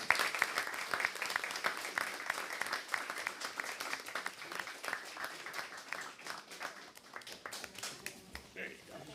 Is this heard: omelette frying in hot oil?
no